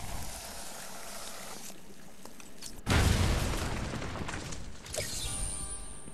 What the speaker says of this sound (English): There's a bombable wall around here somewhere.